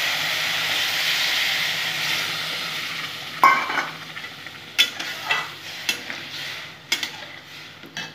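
Powdered milk is stirred into sugary semolina halwa in a hot pan, a soft hiss of sizzling at first, then sharp, irregular scrapes and knocks of a spoon against the pan.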